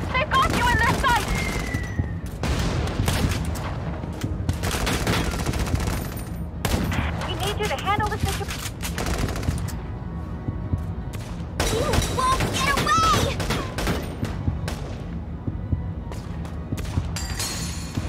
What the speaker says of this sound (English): The enemy's firing back.